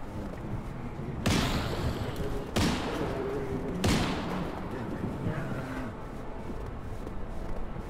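Several loud, sharp gunshots from a big gun in a survival video game, spaced about a second apart over steady game background noise, with some talk around them.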